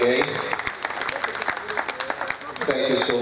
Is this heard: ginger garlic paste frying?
no